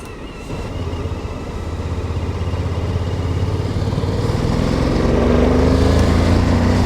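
A Suzuki V-Strom 1050DE adventure motorcycle engine runs close and loud, its throbbing note steadily building in intensity and pitch as the revs climb toward the end.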